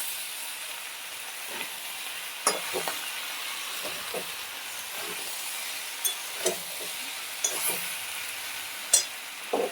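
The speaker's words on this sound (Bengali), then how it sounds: "নুন, হলুদ, লঙ্কা সমস্ত দিয়ে ভালো করে সবজিগুলো ভালো করে ভেজে নিচ্ছি" Vegetables frying with salt, turmeric and chili, a soft constant hiss of sizzling oil with occasional spaced scrapes and taps of a stirring spoon, close but moderate in level.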